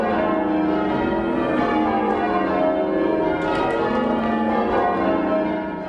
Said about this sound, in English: ringing the bells together